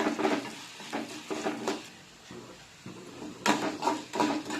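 Split chana dal roasting in a pan for seeralam, with bursts of dry scraping and stirring that come in uneven waves and pause briefly in the middle.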